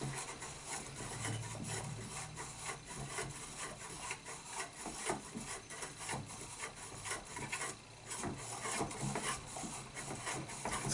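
An AR-15 free-float quad rail handguard is threaded onto a barrel nut, giving a close, continuous metallic scraping and rasping as the threads turn, steady with slight rhythmic variation.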